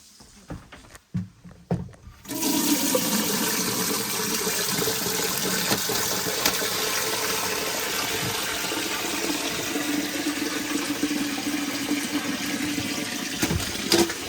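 A toilet flushes in a lake house being shut down for the season. A few faint knocks come first, then a loud, steady rush of water gushes and swirls for about twelve seconds, heard close up.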